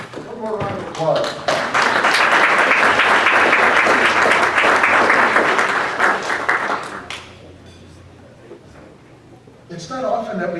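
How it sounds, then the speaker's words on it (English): A banquet hall crowd at a college athletics hall of fame dinner bursts into loud, sustained applause for several seconds, then fades out to quiet before a voice begins speaking near the end. "One more round of applause."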